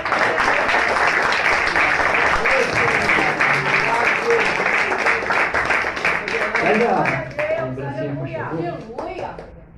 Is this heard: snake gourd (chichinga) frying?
no